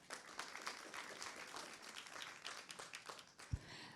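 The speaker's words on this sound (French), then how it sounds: "Allez, voilà, on l'applaudit." An audience at a study-day conference applauds a speaker, a moderate, fairly distant wash of many hands clapping steadily for a few seconds.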